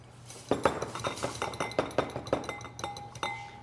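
A metal whisk beats sugar and egg yolk in a bowl, giving a quick run of sharp clinks and taps against the side that lighten toward the end, with no talking.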